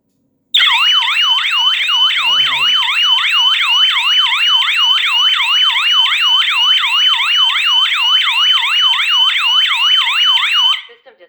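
A BlitzWolf BW-IS6 security alarm system sounds a loud, piercing warbling siren continuously and steadily for about ten seconds, then cuts off abruptly.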